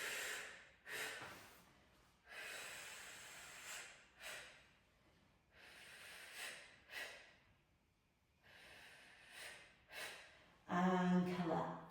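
Slow, deliberate breaths during a Pilates abs exercise, a series of soft sighing exhales and inhales with pauses between, close and quiet, ending in a short louder breath.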